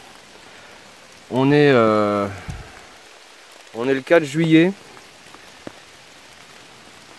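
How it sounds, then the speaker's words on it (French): Soft, constant patter of rain falling in a forest, a fine hiss running the whole time beneath someone speaking in two short bursts. "il fait que pleuvoir"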